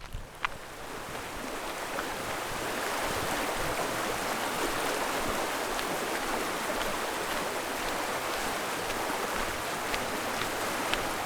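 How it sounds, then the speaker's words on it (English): A waterfall heard along a spring hiking trail, a steady broadband rush of falling water that swells after the first few seconds and holds constant, fairly close and loud, with no talking over it. "Everyone, I can hear the waterfall."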